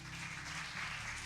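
A church congregation applauds during a sermon, a brief, faint wash of clapping heard from a distance over a low hum.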